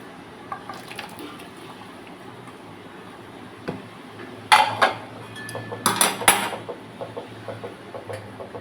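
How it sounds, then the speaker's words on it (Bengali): A ladle stirring bitter gourd shukto in a pan, with a quiet background and then a cluster of loud metallic scrapes and clanks in the second half, close by and without talk. "এবার নাড়িয়ে দেবো"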